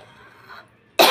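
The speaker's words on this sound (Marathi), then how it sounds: "माझी तब्येत ठीक नाही, मला खोकला येतो." A single sharp cough bursts out at the very end, loud and close, after a stretch of quiet room noise. The person coughing is unwell.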